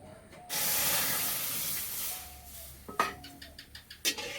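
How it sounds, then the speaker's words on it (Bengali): Cow's milk poured into a hot wok while making sweets, a sudden loud hiss of steam and sizzling that swells then fades, followed by a few sharp clinks and taps. "কড়াই দেবো গরুর দুধ।"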